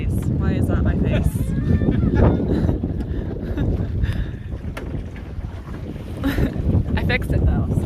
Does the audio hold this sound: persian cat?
no